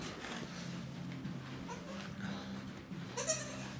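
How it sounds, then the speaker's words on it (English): A young bottle-fed baby goat on a farm bleats in repeated faint cries over steady low background noise, with no clear speech. "So now I have a goat to feed"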